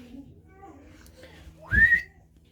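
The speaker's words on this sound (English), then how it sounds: "Sorry for any dogs that got triggered by my whistling." A single short rising whistle, clear and fairly close, rising above faint background murmur, with quiet room noise before and after.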